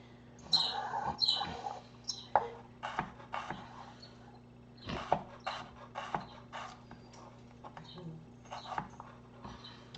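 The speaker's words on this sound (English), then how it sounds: "I think it's just a bird chirping" Short, bright bird chirps scattered through the clip, fairly close, with soft background noise and a steady low hum.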